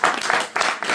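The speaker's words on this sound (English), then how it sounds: "give a round of applause" Clapping from an audience at a debate in a synagogue in Leicester, a steady dense patter of many hands, moderately loud and continuous through the short moment with no talking.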